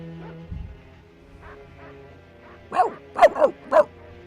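A dog gives a quick burst of four sharp barks close by, after a few faint, scattered sounds.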